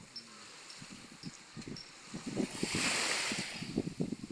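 Ocean surf breaking on an island beach in Real, Quezon, a steady wash of waves swelling louder midway, with wind noise over the microphone and low rumbling bursts throughout.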